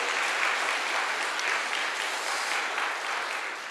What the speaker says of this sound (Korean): 우리 영상팀 하나님께 감사하는 박수 드리겠습니다